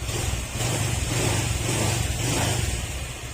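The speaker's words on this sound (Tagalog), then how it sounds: "siya yung tunog ng makina" A Honda Click scooter engine, rebuilt, runs at a steady idle, its low throbbing pulse close and continuous with a faint hiss on top.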